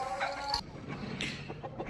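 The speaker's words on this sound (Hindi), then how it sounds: "इनमें 2-3 मुर्गे छोड़े हुए हैं।" Aseel chickens and roosters on a goat and poultry farm give several short, close clucks and squawks in quick succession, with no voices.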